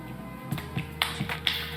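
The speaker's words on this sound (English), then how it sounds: "Please stop fucking clapping like you're some sort of seal" Quick hand claps ring out several times in an uneven pattern during an indoor podcast recording. The sharp, light claps sound close against a steady low background hum.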